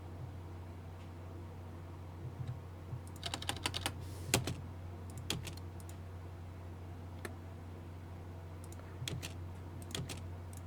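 Computer keyboard being typed on and backspaced, quiet bursts of clustered key clicks with pauses between, close and alone over a low steady background hum.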